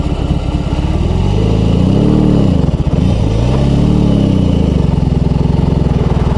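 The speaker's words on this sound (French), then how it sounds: "je vais essayer de démarrer en deux. Je vais voir si ça démarre en deux." A BMW R18 B bagger motorcycle's big engine pulls away in second gear, a loud, steady low rumble that rises and dips briefly before settling again, close by with no talk over it.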